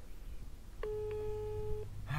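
A single electronic telephone ring tone sounds steadily for about a second, clear and close, over a low background hum.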